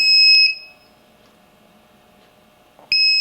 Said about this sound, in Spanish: Nuevamente abro las puertas o las ventanas y se dispara la alarma.